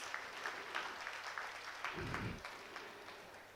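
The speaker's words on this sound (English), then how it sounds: "You can give a big round of applause for this." An audience gives a round of applause at an alumni felicitation programme, steady scattered clapping heard faintly from a distance, with a brief low thump partway through.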